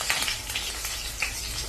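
Green chillies frying in hot oil, a close, crackling sizzle with scattered sharp pops across a brief moment.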